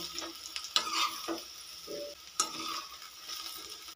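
Intermittent scraping and stirring of eggplant frying in a wok, with a light sizzle in the background and a few sharp clinks of a utensil against metal.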